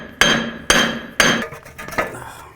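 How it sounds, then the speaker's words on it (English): A hammer strikes the rear wheel hub of a Dodge Journey to break it free: three sharp metallic bonks at an even pace, then two lighter taps, loud and close. "I'm going to give this a couple loving bonks in this direction to try to break it free"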